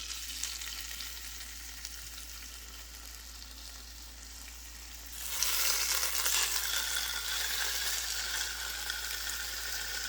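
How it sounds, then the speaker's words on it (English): Six partly frozen pork chops searing in a hot pan, a steady loud sizzle that jumps in intensity about halfway through, with no talking. "So I just want to get a nice sear."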